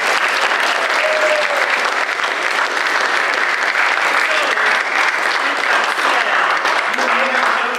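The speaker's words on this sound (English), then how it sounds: "round of applause for Sul Ross State University" A concert audience gives a loud, steady round of applause for Sul Ross State University, dense clapping that holds evenly throughout with faint voices mixed in.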